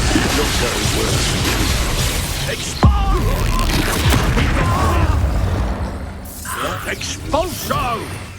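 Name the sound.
Expulso spell explosion in the video game Hogwarts Legacy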